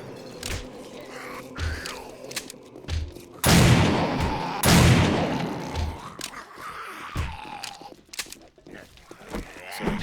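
Gunshots in the video game 7 Days to Die, several sharp shots and two loud blasts spaced across the stretch, mixed with lowing, groaning game sounds and occasional thumps.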